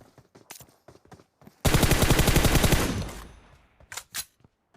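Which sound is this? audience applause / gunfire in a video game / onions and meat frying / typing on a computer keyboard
gunfire in a video game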